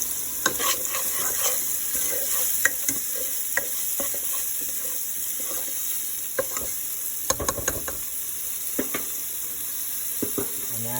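Homemade beef chili sizzles and is stirred in a pot, with a steady close frying hiss and repeated spoon scrapes and clinks against the pot.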